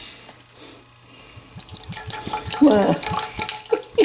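Vinegar pours into a pot for homemade venison BBQ sauce, a close liquid trickle and splash that swells midway, with voices talking over it.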